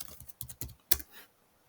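Computer keyboard keys tapped to type a search: a short close burst of about six quick clicks in an uneven rhythm, ending with a sharper final keystroke and then quiet, with no talking.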